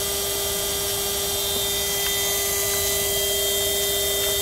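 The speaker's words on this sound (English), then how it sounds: "So it's actually having a corona discharge going on with the ground." A VFD-driven ignition transformer gives off a steady electrical hum with a faint, crackling corona discharge, an unbroken buzzing drone throughout with no talk.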